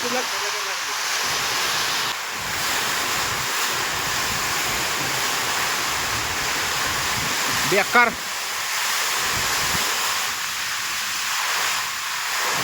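Heavy rain and hail from a cloudburst in Lonand roar as a dense, continuous broadband wash, with a brief voice cutting in around the middle.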